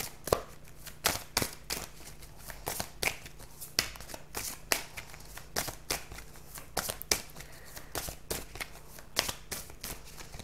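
Oracle cards shuffled and drawn during a spiritual card reading, producing a steady run of crisp riffling and snapping bursts, close and moderately loud, with no talking.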